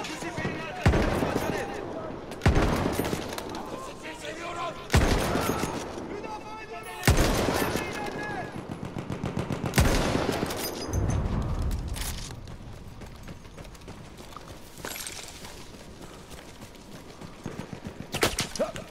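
An enemy machine gun in the Battlefield 1 solo campaign fires in repeated rapid bursts, loud and close, each burst a rattling string of shots with short gaps between.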